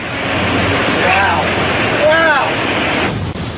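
Rushing water roars steadily with a broad wash of noise, while faint whistling bird calls rise and fall over it.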